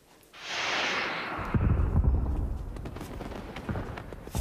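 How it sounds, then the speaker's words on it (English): Fireworks celebrating a new prince's birth in a Prince Caspian drama: a rising whoosh of a launch swells into a loud, booming, crackling burst that rumbles on to the end. "Fireworks. To celebrate the birth of the new prince,"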